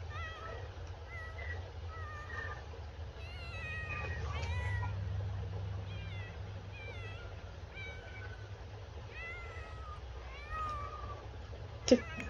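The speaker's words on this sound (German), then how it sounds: "Ach guck mal, da kommt noch eine Katze besuchen." Cat meowing in a video game, a run of repeated mewing calls through the middle of the stretch over a steady low hum, with a faint extra tone and a sharp click near the end.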